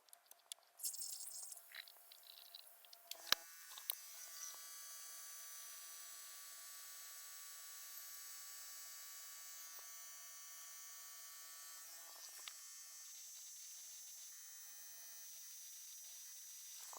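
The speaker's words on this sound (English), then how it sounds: "we're gonna start with the vacuuming again, just like before" A vacuum fill tool runs steadily on the coolant system of a Mercedes S550 with the M278 engine, giving a constant high hiss and whine with faint rattles that carries on for the whole clip after a few sharp clicks at the start.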